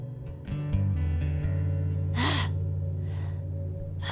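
A dying woman's ragged gasping breath, drawn in sharply and strained, heard alone and close, set against a low droning hum.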